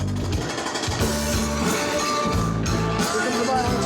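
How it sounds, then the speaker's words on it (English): A jackhammer pounding within a music track built from home demolition recordings, its rapid repetitive hammering sitting loud and steady inside the dense mix of rhythm and tones for the whole stretch. "That's a jackhammer."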